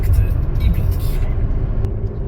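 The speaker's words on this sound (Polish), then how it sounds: "może się przejedziemy i zobaczycie, jak to auto jedzie" A 2022 Peugeot 508 GT diesel engine rumbles low and close as the car pulls away, a deep throaty drone with some rattling and faint background noise.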